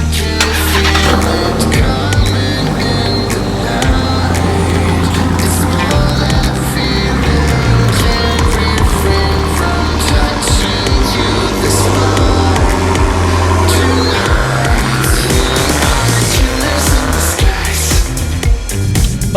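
A 2018 Dodge Demon starting and driving off: a loud, deep engine rumble that holds steady and swells with revving, close and continuous with no talk.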